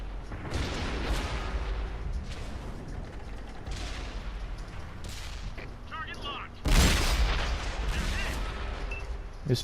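An M6 tank's cannon fires in a tank battle video game, one heavy booming shot standing out from ongoing rumble and distant gunfire while someone talks.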